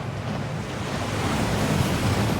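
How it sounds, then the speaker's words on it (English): The waterfall at Gringotts bank in Hogwarts Legacy roars as a dense, constant rush of falling water, a steady broadband wash that fills the whole moment with no talk over it. "That waterfall washes away all enchantments."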